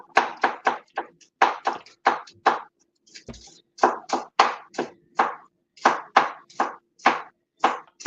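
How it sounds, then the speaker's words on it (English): A knife chops green onion on a cutting board in a home kitchen, giving quick, crisp taps in rapid bursts with a short pause midway, close and clear with no talking. "I'm cutting up the green onion."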